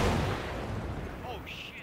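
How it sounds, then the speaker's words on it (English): A frag grenade detonates in the military shooter game ArmA 3 as a loud, close boom that rolls into a long rumbling decay, with a brief voice cutting in near the end. "I'm throwing a frag."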